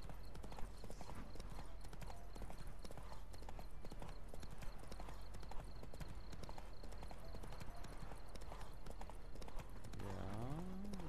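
Steady clip-clop of a horse's hooves galloping at a brisk, even rhythm in the video game The Witcher 3, running continuously against low ambient game sound with no talking.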